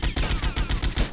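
Rapid bursts of gunfire in the video game GTA Vice City, repeated shots in a steady rhythm, loud and close throughout.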